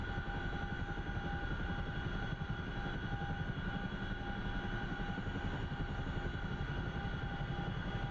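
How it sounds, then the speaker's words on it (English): A Boeing CH-47 Chinook tandem-rotor helicopter, heavily loaded and hovering in ground effect, gives a steady, loud, continuous rotor and turbine drone with a faint whine, unbroken from start to finish and with no talk. "But it is a really nice flying helicopter."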